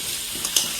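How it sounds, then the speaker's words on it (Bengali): Potatoes fry in a pan, a brief close hiss of sizzling oil with a short sharper crackle midway. "দেখিস না আলু ভাজা করতেছি"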